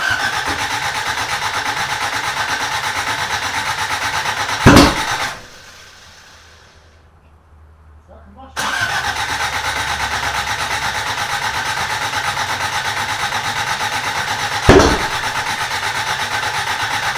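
A Toyota Corolla engine cranks and catches, running at a loud, steady idle close by, then cuts out briefly before restarting with another sharp crank and settling back into a rough, continuous idle.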